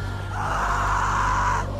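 A girl screams in The Walking Dead: Episode 3 video game: one strained, sustained cry of about a second, fairly loud over a low background hum.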